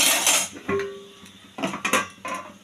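A lid is set onto a cooking pot of boiling beans, a few close metallic clanks and clatters with a brief ringing tone, loud and near.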